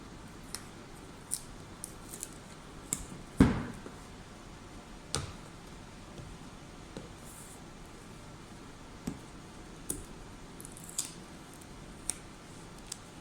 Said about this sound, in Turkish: Şuradan bantlarımızı çekelim.